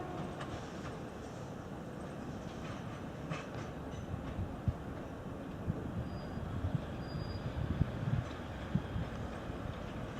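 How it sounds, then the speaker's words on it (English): A train departs from Skegness Railway Station, rumbling steadily with faint rail clatter and a few clicks, the sound holding at a moderate level as the wagons roll on into the distance. "I can watch the train disappearing into the distance"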